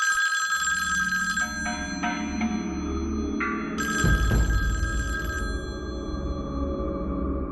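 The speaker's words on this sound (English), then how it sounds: "I couldn't have been lying in bed for more than an hour when the phone rang" An old-style telephone bell rings in a bedroom at night, loud and continuous electronic trills repeating in bursts with no voices.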